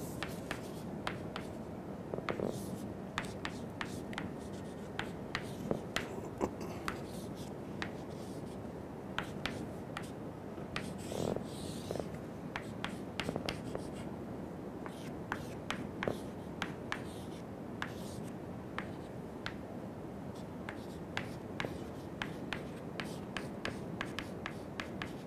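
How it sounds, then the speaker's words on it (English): Chalk or marker strokes writing out an expression on a board during an engineering lecture on wing loading, a steady patter of short taps and scrapes over a faint room hum, with no talking. "Let me write that expression so that you will be able to"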